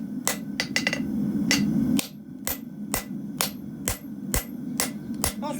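Sharp, close hammer strikes on metal as a deep groove is cut, landing in an uneven series of a dozen or so crisp ringing taps over a low rumbling background.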